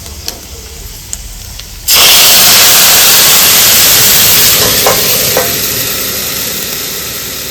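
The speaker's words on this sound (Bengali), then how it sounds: "তারপরে দিয়ে দিব কুমড়ো" Pumpkin tipped into a hot frying pan for a vegetarian kumro ghonto. A quiet stir gives way to a sudden loud, steady sizzle and hiss that slowly eases, with a couple of soft knocks.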